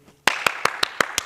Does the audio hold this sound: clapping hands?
yes